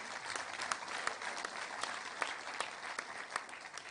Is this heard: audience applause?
yes